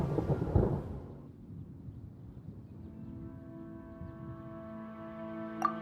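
A low rolling thunder rumble from the Genshin Impact video game swells and fades into a steady droning musical backdrop, with a brief sharp accent at the very end.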